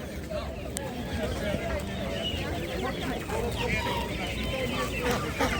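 Chickens and other poultry cluck and chatter at an outdoor animal market in Lublin, mixed with murmuring voices and crowd babble.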